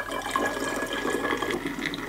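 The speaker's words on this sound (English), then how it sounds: "we'll just pour it, the cool wort, into the fermenting" Cool beer wort pours through a sanitized funnel into a fermenter holding yeast, a steady close splashing gush of liquid throughout.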